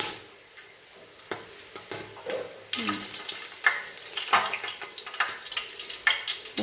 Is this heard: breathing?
no